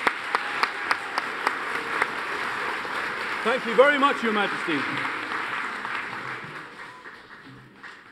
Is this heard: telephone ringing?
no